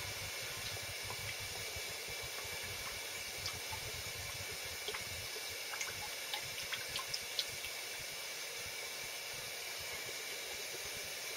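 A hot sand-coated lead fishing weight is dunked into water, giving a steady close hiss of steam with small scattered crackles and pops throughout.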